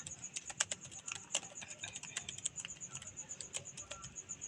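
Quick, uneven keystrokes on a computer keyboard while a patient's name and address go into a medical records system, close and fairly quiet, with no voices.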